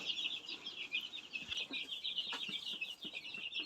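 Many small chicks of a tiger chicken breed, eleven days old, chirping continuously in high-pitched peeps before vaccination, a busy overlapping chorus at moderate distance with faint background rustling.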